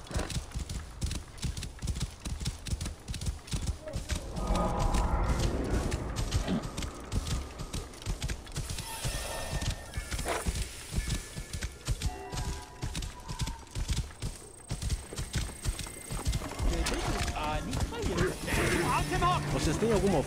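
Horse hooves clip-clop in rapid, continuous rhythm in the video game Assassin's Creed Origins, with occasional whinnies and game sound effects mixed in throughout.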